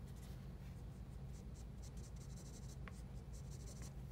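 Pencil shading a hand drawing on paper, a very faint, soft scratching and rubbing in a continuous texture, quiet and close with a light tick partway through.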